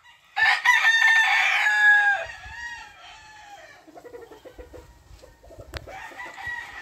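Gallino gamecock roosters crow: a loud, close crow of nearly two seconds, then quieter calls and scattered clucks, with another crow starting at the end.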